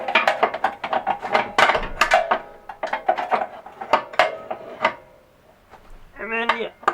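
A 15 mm wrench works an exhaust bolt on a Can-Am Outlander ATV, giving a run of close metallic clicks and ratcheting taps, irregular and fairly loud, with a brief voice near the end.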